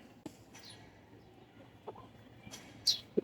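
Chickens in a rooftop garden with pigeons nearby, giving a few faint, scattered clucks over quiet background noise.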